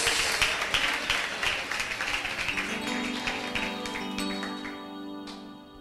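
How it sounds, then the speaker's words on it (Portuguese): A church congregation claps together in praise, a dense, rhythmic wash of applause that gradually fades while a sustained organ or keyboard tone rises beneath it. "As palmas é bem forte para Jesus"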